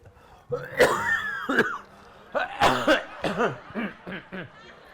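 A person coughing several times in a room, harsh hacking bursts spaced apart, mixed with throat-clearing sounds and brief voiced, chuckle-like noises.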